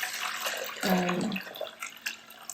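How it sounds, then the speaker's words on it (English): Running tap water pours into a sink while a potted orchid, a Brassavola Jiminy Cricket being repotted, is rinsed off, a steady close splashing stream with a brief louder gush partway through and no talk. "I think it's time for us to go to the sink and give this a rinsing off."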